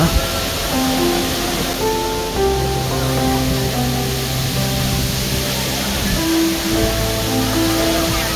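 Steady rushing roar of Namaste Waterfall near Bhedetar, Nepal fills the scene, constant and loud, with faint tonal sounds drifting over the top.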